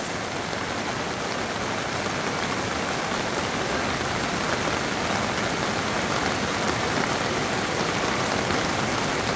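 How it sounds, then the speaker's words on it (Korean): Rain falling on a farm, a dense, even hiss of drops that stays loud and unbroken from start to finish, with no voices. "얼마나 단비를 기다렸으면은 비가 내리는 이날 지금 비 구경을"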